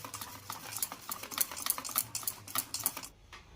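Wheat flour cake batter mixed with milk is stirred briskly in a bowl. Quick, rhythmic scraping and tapping strokes repeat steadily up close, then stop just before the end.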